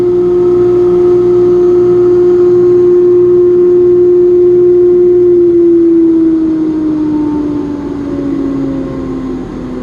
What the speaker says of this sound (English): dust collector is running a 1/2 horsepower Baldor motor, which is brand new